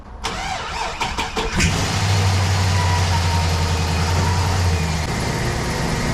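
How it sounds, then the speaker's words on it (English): A truck engine cranks with a few rapid starter bursts, catches and settles into a steady, loud low idle that runs close by for several seconds with no talk over it. "So let's fire this thing up and see if it's pumping."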